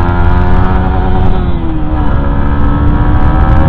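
Yamaha MT-15 motorcycle filtering through city traffic, its engine droning loud and close without a break, the pitch wavering slightly as the rider works the throttle.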